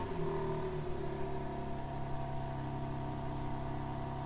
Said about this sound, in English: press the lock button 3 times to fire up the engine